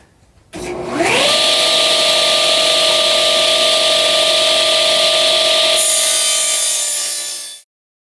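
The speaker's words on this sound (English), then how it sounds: "We'll fire up the saw here, and I've got a bucket of a few here, so we'll cut a few bottoms real quick." Table saw spinning up and cutting a wooden muskie lure blank, a loud steady whine after a short ramp, the pitch shifting as the blade bites the wood before spinning down and stopping abruptly.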